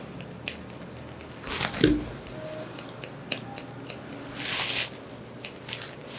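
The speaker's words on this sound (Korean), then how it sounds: "커브 가위 쓸 때는 최대한 살살 조심히" Curved grooming scissors trim a dog's fur in a lamb clip, with a few crisp snips close by, two louder cutting bursts and quiet clicks between them.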